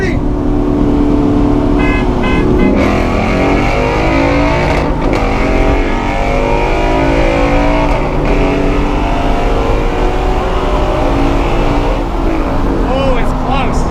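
A Ford 5.0 and a Cobra race side by side. Loud, close engines roar without a break, their pitch climbing through the gears, while voices shout over the noise.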